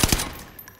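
A Bren machine gun in Call of Duty: Modern Warfare fires a quick burst of two sharp, loud shots, the second following closely on the first, with a short decaying tail after.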